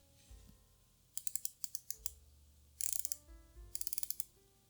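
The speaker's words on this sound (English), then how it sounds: "And the bezel movement is great. These clicks are really tight." Crisp, tight ratcheting clicks of an Armida A11 dive watch's aluminum bezel being rotated, delivered in three quick bursts of rapid clicks separated by short pauses, close and alone.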